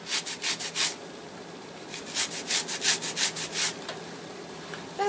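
Mandarin orange peel is rubbed against a small hand grater in two bursts of quick, scratchy strokes, close and fairly quiet, with a short pause between them.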